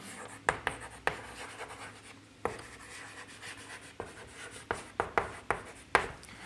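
Marker or chalk writing a linear equation on a board in a Class 10 maths lesson, with soft scratchy strokes and sharp taps arriving in irregular clusters, fairly close and alone without talk.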